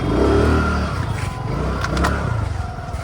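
A vehicle idles and revs as it is parked at a crowded Diwali market, the engine running close and steady, with scraping and clattering from the busy street mixed in.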